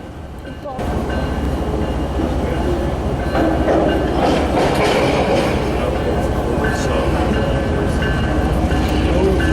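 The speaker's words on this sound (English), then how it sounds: "CSX decided to have their intermodal train depart the yard." A CSX intermodal freight train pulls out of a rail yard, a loud continuous rumble of rolling wagons with rhythmic wheel clatter and faint squeals, starting abruptly and holding steady.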